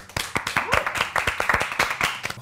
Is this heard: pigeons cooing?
no